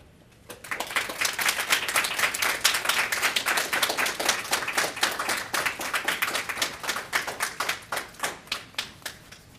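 A school talk audience at Titan Talks 2019 breaks into applause right after a speaker finishes her story. The dense clapping starts suddenly, holds steady and loud, then thins into separate slower claps toward the end.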